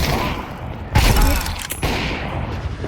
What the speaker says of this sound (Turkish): Bak adamı sıkıyorum.